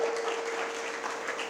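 Steady, dense hand-clapping from an audience at a Marathi talk about Chhatrapati Shivaji Maharaj, filling the room evenly at moderate loudness with a faint held tone running underneath.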